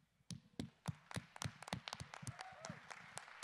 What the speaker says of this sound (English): I guess I shouldn't clap when I've got a handheld here.